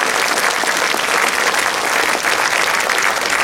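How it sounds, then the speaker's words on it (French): Audience at a conference breaks into warm, sustained applause, dense, even clapping from a large crowd filling the room at full volume with no pauses. "je vous demande encore une fois d'applaudir chaleureusement pour ça"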